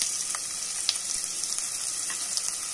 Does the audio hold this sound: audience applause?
no